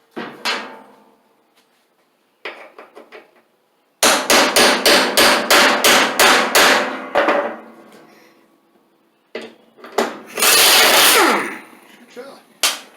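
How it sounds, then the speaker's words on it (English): A burst of rapid hammer blows, about a dozen sharp strikes in quick succession, on the mower deck of a Craftsman LT2000 lawn tractor, with scattered knocks and clatter before and after. "Hammer."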